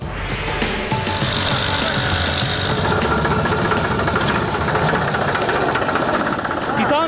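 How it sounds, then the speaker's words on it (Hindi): A tractor engine runs loud and steady throughout while riding aboard it in a farming village in Sonipat, with a rough, knocking mechanical rumble and constant vibration close up. "एक दूसरे ट्रैक्टर की सवारी हम लोग कर रहे हैं इस वक्त"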